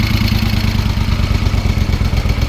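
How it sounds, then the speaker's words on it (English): A 1973 Moto Guzzi motorcycle engine idling close by, a steady loud throb with fast mechanical ticking from the valve tappets running through it. "you can definitely hear the tappets hitting in there"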